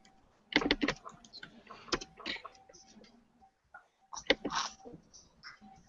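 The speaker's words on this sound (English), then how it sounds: "I'm typing it in." Computer keyboard typing in bursts of close, crisp key clicks with a short pause in the middle, no talking, while a statistics value is entered.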